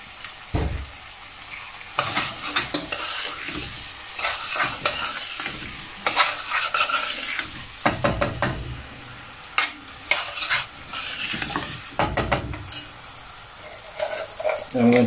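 About 200 grams of chopped onion frying in a pan for chicken keema curry, with a steady sizzle broken by repeated scraping, clattering stirs close up, loud and busy throughout with no talking.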